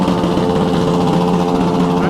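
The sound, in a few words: two motorcycles revving their engines to make noise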